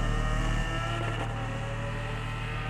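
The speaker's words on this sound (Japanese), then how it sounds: "エンジン音やないか" Lamborghini Aventador engine in Need for Speed Heat, a loud, steady mechanical drone with a constant low rumble and a slight swell in the middle, no voices over it.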